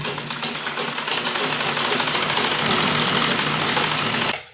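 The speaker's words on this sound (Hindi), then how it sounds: "और उसके बाद हम सीधी सिलाई करेंगे" A sewing machine runs a continuous straight stitch on a baby dress made from a dupatta, a fast, even mechanical whirr up close that stops abruptly at the end.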